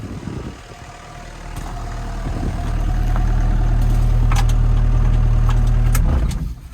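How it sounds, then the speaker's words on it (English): A tractor engine idles close by, rough at first, then settles into a steady, loud low rumble that holds for several seconds before cutting back near the end. "The engine runs sweet as a nut."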